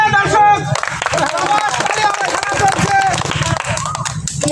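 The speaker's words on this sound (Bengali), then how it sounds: "দর্শক একটু তালি হবে" Audience clapping at a Bengali food-eating competition, dense and steady throughout under loud crowd chatter and an announcer's voice.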